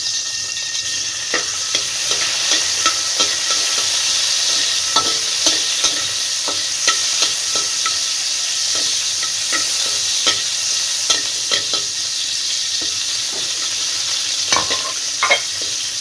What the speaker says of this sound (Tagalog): bacon cut na ang aking pork, igisa lang natin to ng sandaling-sandali lang